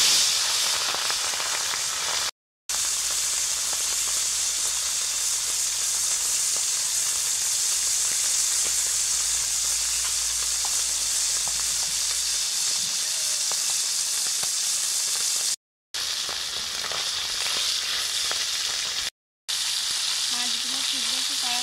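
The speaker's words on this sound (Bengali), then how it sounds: "এখন মাছগুলো ভেজে নেব" Puti fish frying in hot white oil in a pan, a loud, continuous sizzle and crackle close up, steady throughout with a few brief cuts to silence.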